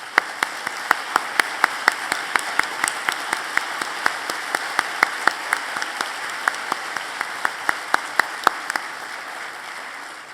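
Audience applause at a 2019 university convocation, steady clapping from a large hall crowd with sharp individual claps standing out, sustained evenly for about ten seconds with no talk.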